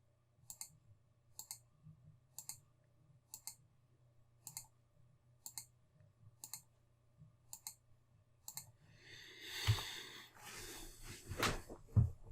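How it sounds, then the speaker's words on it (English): Mouse clicks while working in Sage 50 Canada accounting software, a regular series of sharp, close clicks about one per second, followed by a burst of rustling handling noise and a couple of louder knocks at the end. "in each case, I'm just going to click export to bills"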